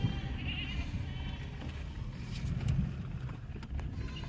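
A mother goat named Elfie bleats for her kid Bootsie from inside a moving vehicle, her cries faint and intermittent under steady engine rumble and wind noise.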